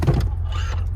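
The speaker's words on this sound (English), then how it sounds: "We can power fold the 3rd row." Power-folding third-row seat of a 2019 GMC Yukon Denali, a brief close electric motor whir with a soft mechanical clunk at the start.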